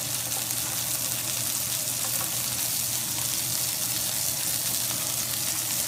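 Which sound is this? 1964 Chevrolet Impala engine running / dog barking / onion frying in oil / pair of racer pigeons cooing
onion frying in oil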